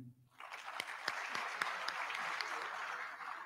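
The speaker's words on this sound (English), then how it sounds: "The applause is too feeble." Feeble applause rises at an induction ceremony for newly qualified medical and dental practitioners, a thin, distant patter of clapping that starts after a brief quiet and continues steadily.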